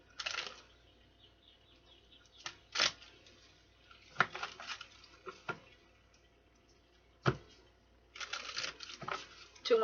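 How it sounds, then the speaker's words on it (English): Soft bursts of cards being shuffled and riffled, several separate rustling flurries with quiet pauses between, close by and fairly faint. "Two more shuffles."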